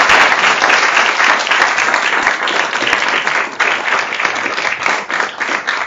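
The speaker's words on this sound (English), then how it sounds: "please join me in a round of applause for our presenters" Loud, sustained applause from an audience at an international law event honoring its presenters, dense overlapping claps with slight swells and dips throughout, no speech on top.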